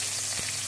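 Chopped onion fries in hot mustard oil in a kadai, a steady, dense sizzling hiss heard up close without pause.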